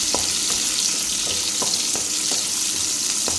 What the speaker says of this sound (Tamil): இப்போ அரிஞ்சு வச்சுருக்க சின்ன வெங்காயத்தை அதில் சேர்த்துக்கலாம்